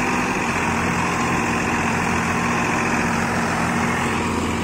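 A vehicle engine running steadily while the vehicle is pulled, a constant droning idle with a buzzy edge, moderately loud and unbroken, with no voices.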